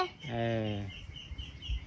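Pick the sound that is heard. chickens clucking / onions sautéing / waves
chickens clucking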